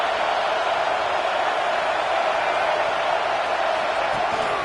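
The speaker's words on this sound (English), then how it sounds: "here comes the noise. This crowd is trying to inspire this defense to make a big red zone stop." A large college football stadium crowd roars steadily from a distance during a red zone defensive stand, a broad sustained wash of noise without breaks.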